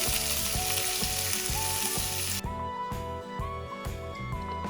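Onion sizzling as it fries in hot oil already seasoned with bay leaf, cinnamon, clove and fennel for a chicken gravy, a steady loud crackle throughout with no talking.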